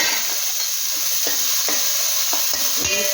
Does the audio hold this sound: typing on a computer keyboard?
no